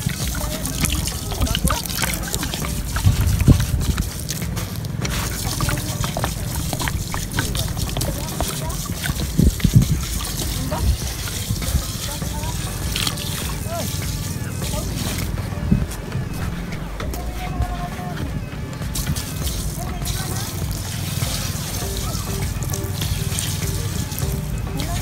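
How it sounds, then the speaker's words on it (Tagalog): Water pours steadily over fresh sea urchins to loosen their spines, a continuous splashing, trickling stream like a running tap, with a voice talking intermittently over it. "So ngayon bubuhusan ko siya ng tubig guys."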